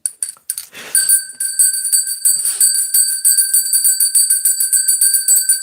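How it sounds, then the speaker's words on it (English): A small bell rung repeatedly in quick, steady strokes, each bright ring overlapping the next, loud and close, after a couple of sharper opening strikes. "I gotta ring the bell."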